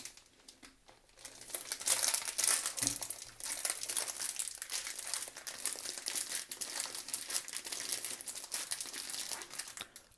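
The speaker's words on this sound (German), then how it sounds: "dann gehen wir mal an die Sache ran und entfernen als erstes unsere Tüte." A plastic bag is pulled off a shiitake mushroom grow kit, making close, continuous crinkling and crumpling that starts softly and carries on steadily.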